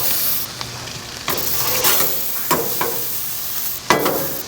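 Steaks sizzling on a grill: a loud, steady hiss of frying fat, broken by a few sharper crackles and spits near the end, close by, with no voices.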